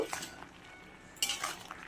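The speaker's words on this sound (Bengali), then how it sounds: "এইভাবে আলতো হাতে মিশিয়ে নেব" Fried vegetables are gently stirred into shukto in a pot, giving a few soft metallic scrapes and clinks of a spoon against the vessel, with quiet pauses between them.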